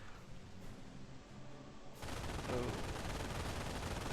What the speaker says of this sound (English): Flak is trying to fire onto the engineer squad, and I don't even see where he is hitting.